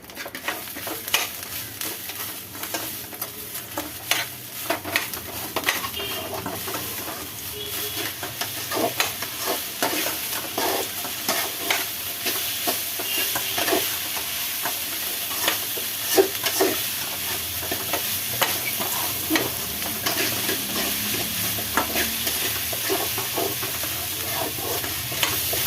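Coconut rice being stirred in a pan on the stove, with a steady frying sizzle and scattered scraping and clinking of the spoon against the pan throughout, close up and without any talking.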